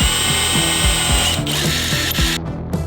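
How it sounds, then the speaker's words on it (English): A power drill whirs steadily with a grinding, ratcheting rhythm as it bites through a wrecked Porsche's metal body panel to make rivet holes, loud and close. "then we have to drill holes where the rivet's gonna go"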